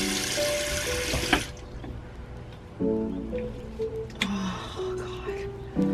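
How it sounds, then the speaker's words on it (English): Tap water runs at a bathroom sink as someone splashes their face, the steady stream cutting off after a moment and followed by intermittent splashes, drips and wet hand sounds nearby. "just wash my face? Nothing fancy, just water."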